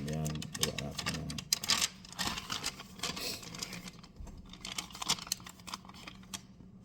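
Computer keyboard keys are typed in quick irregular bursts of clicks and clacks, close and fairly loud, with a voice speaking at the start.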